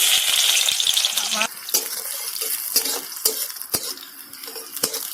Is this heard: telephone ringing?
no